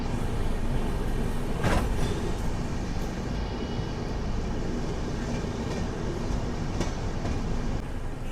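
The Godavari SF Express stands at or rolls through Duvvada station, a steady loud rumble of wheels and carriages with a few sharp clanks along the way.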